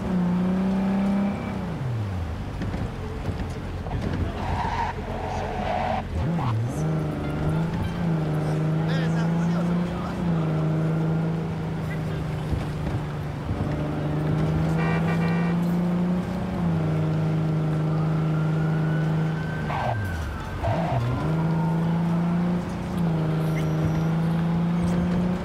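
Car driven in Cyberpunk 2077 on PlayStation 5, third-person view: steady engine drone with a few rises and falls as it revs and shifts, loud and continuous, with some game sounds mixed in.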